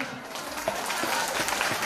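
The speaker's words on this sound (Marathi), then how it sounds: "एकदा जोरदार टाळ्या झाल्या पाहिजे" Audience applause at a women's Home Minister Paithani game show event, a dense steady clapping crowd filling the short moment at moderate volume without speech.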